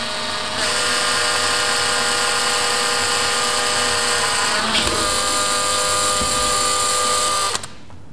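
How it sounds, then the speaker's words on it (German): A cordless drill fitted with a 3 mm bit bores a hole in plastic, giving a loud, steady high whine for about seven seconds that briefly dips midway before the motor cuts off. "Mitte ist markiert und da bohren wir jetzt ein Loch rein. Das geht mit einer Bohrmaschine."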